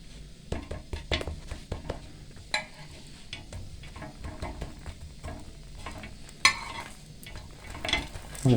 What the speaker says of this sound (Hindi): ऐसे हल्का इसको फ्राई करना है ताकि इसकी जो हीट अंदर रहे।